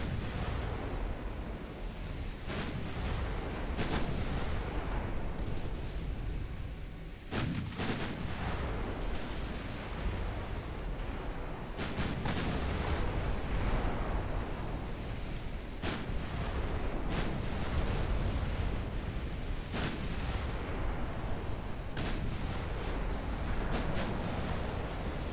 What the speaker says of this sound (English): Fire some shells at it.